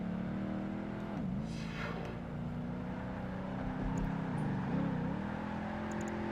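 Porsche Cayenne engine racing in Project Gotham Racing 2, a steady loud drone that rises and dips through two pitch sweeps as it shifts and revs, sustained with no talk over it.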